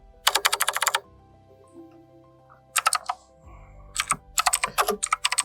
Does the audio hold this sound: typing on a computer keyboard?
yes